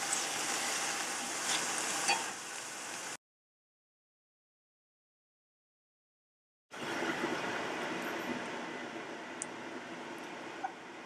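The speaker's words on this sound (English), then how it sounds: "I should just cook them all up right now. A little bit of olive oil." Blewit mushrooms sizzle and fry in olive oil in a pan, a steady crackling hiss that cuts out completely for a few seconds and then resumes at the same level. No one speaks.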